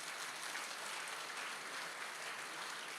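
Steady applause from an audience, dense and continuous clapping with no pauses, fairly loud throughout.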